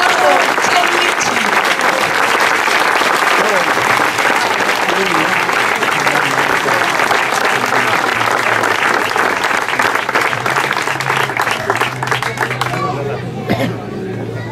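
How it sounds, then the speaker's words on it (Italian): An audience at the awards ceremony of the Ponte Corace–Tiriolo hill-climb car race applauds steadily and loudly for over ten seconds, with crowd chatter and a voice underneath before it fades slightly at the end. "vi mandiamo un applauso fino a lassù"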